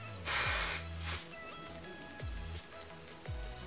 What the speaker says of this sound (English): you can just take some hairspray